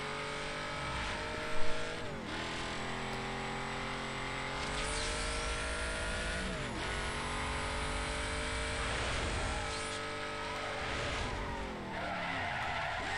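An upgraded street car races in Need for Speed Most Wanted (2005), its engine holding a loud, continuous high-revving roar with repeated gear-shift dips and tire-squeal sweeps, plus one short knock early on.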